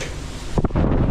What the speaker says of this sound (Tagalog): lakas ang hangin, oh